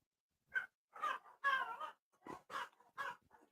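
Dogs barking indoors during a movie night, a string of short, sharp, fairly faint barks and yelps in quick succession, heard alone without talking.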